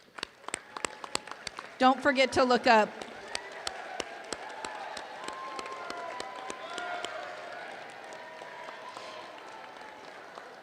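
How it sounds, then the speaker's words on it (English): Graduates at a high school graduation ceremony clapping for their family and friends, scattered crisp claps under crowd murmur and a short burst of speech, sustained at moderate volume. "give a round of applause to your family and"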